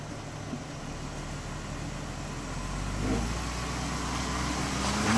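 A Jeep Rubicon engine idles and rumbles low while the vehicle works to climb over a waterfall ledge, a steady mid-distance drone that swells slightly as it pushes, with no talking.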